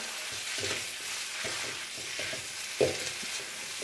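Ginger scallion noodles fry in scallion-infused sesame oil in a wok, giving a steady, fairly soft sizzle with a few stirring scrapes and one sharp clack near the end.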